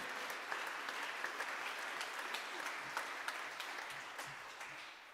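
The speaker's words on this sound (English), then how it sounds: "How about a round of applause for Christ Church Cranbrook for doing this concert this year live?" A concert audience at Christ Church Cranbrook applauds during a live Christmas jazz evening, dense steady clapping from many hands filling the room, with no voices over it, holding level throughout before easing slightly at the end.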